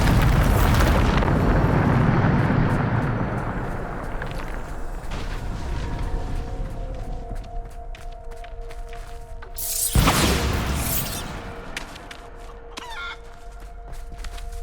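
A Bombarda spell blast in the wizarding game Hogwarts Legacy, opening with a loud rumbling roar that fades, then a second sharp explosive burst near the ten-second mark, followed by tonal magical hums and scattered clicks.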